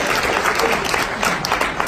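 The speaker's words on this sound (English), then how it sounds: "Let's give Colvin a round of applause." Dense, continuous clapping from a seated audience at a business meetup, fairly loud and close, with no speech over it.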